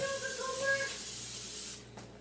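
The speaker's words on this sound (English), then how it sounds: "I have olive oil spray" Olive oil cooking spray hisses steadily from a can for nearly two seconds in a kitchen, then cuts off abruptly, with a faint background hum.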